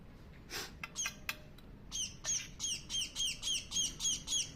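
A small bird calls close by in a quiet room, a rapid string of sharp, repeated chirps and squawks in an even rhythm.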